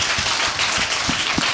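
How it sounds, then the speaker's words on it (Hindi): A church congregation claps together to thank Jesus during a Hindi-language sermon on tithing, a dense steady wash of hands with a few louder bursts, filling the room at close range. "मैं चाहता हूँ आप ताली बजा के यीशु को धन्यवाद दें"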